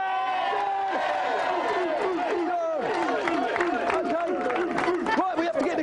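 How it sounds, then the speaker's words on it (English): A studio crowd cheers, whoops and shouts steadily for a team on a children's video game show, a dense, loud wall of voices throughout. "let's have a big cheer for the Dick Whittington team from Croydon"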